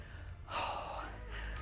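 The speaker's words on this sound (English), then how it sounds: "Heart rate is getting up. Breathing heavy." A person breathes heavily during an upper-body strength workout, with one loud, close, sharp gasping breath followed by a drawn-out exhale, alone.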